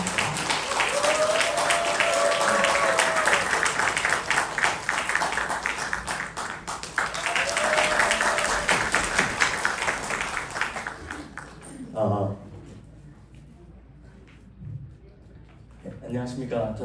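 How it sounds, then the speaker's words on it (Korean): Sustained crowd applause at a Korean religious training assembly fills the first half, then fades out as a single voice begins speaking in a quieter room. "큰 박수 부탁드립니다."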